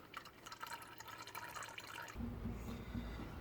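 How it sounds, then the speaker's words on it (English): Engine oil runs out of a Toyota 86 sump into a drain pan as a soft, steady liquid trickle. It thickens into a fuller, heavier pour partway through. "So I'll just let that drain off."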